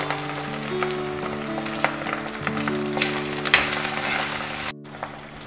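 Tomatoes added to onion, garlic and ginger paste frying in a pan for a spicy kundru curry, a steady soft sizzle with small crackles and a few spoon clinks over a sustained background hum.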